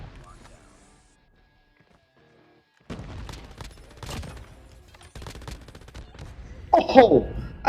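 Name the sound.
MG82 machine gun firing in Call of Duty Mobile video game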